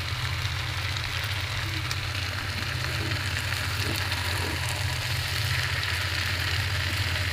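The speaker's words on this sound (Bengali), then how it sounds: "আস্তে করে নেড়ে দিতে হবে যাতে মাছের ভাজিটা যাতে ভেঙে না যায় মাছগুলো।" Fish bhaji sizzles continuously in a pan as it is gently stirred, a dense, even frying hiss over a low steady hum with no break.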